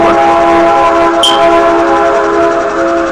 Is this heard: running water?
no